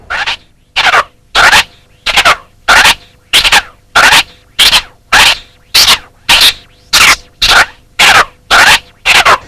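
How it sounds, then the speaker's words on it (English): Turntable scratches in the three-fingered crab technique, fader set normal, repeating in even bursts, each stroke chopped into a few quick cuts, about fourteen loud strokes in a steady rhythm, no talking. "Now, finally, we have the three-fingered crab with the fader normal"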